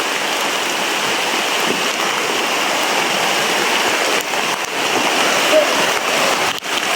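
Heavy outdoor rain pours in a loud, dense, continuous hiss that fills the whole stretch, with a faint voice barely audible beneath it.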